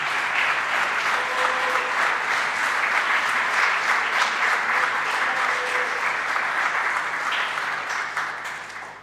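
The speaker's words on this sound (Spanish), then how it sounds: "Dale un aplauso al Señor." A church congregation applauds during a Spanish-language sermon: dense, sustained clapping that fills the room for about nine seconds, with no voice over it, before thinning out at the end.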